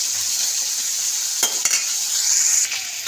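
Hot oil crackles and sizzles continuously as amodi fish fries in a pan, broken by a couple of sharp scraping clicks as the fish is turned.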